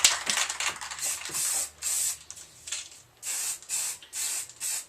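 Bursts of spray gun hiss as a wet coat of primer goes onto a Harley 883 Iron belly pan in a garage, several short passes separated by brief pauses, fairly close and fairly loud.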